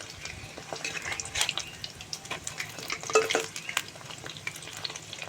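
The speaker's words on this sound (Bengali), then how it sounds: "এই কুমড়ো পাতার রোলগুলো আমি তেলের মধ্যে খুব ভালো করে নেড়ে" Battered pumpkin leaf rolls filled with potato and rice being stirred and fried in oil over low heat, a soft, crackling sizzle with uneven scraping and stirring sounds close by.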